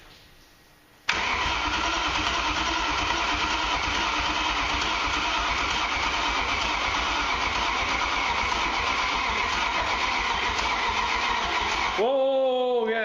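After a quiet moment, a BMW E30 with a swapped M60 V8 cranks and catches, then runs loud and steady at close range for about ten seconds before being shut down with a short whining burst; voices are heard in the garage.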